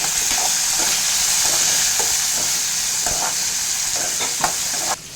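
Garlic and onions fry with green chillies in a pan, giving a loud, continuous hiss with repeated scraping stirs at irregular intervals and a sudden drop in level near the end.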